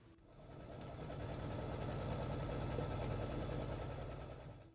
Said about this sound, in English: We will now run the next machine step, which will be the tacking stitch for the bottom of your bag.